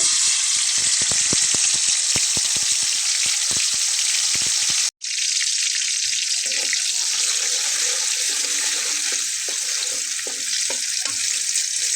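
Spice paste hits hot oil in a wok with a loud, steady sizzle, briefly cut off midway, then continuing as a dense hiss with scattered clinks of stirring nearby.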